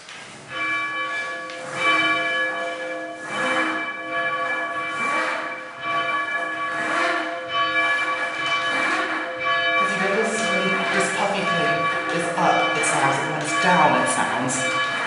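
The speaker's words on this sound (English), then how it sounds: "That means the bell is striking on both of its sides." Church bells ring in a tower, clappers striking both sides of each bell, producing overlapping metallic peals in a steady sustained cascade, loud and reverberant, with a voice faintly underneath.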